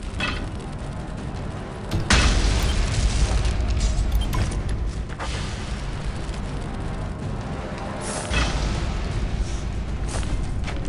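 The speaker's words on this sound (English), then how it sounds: "Is anybody blowing up the weapon crates?" Weapon crates blowing up in the online game Tera, heavy booming blasts with a sharp onset near two seconds and another surge near eight, over a continuous rumbling wash of fire and debris.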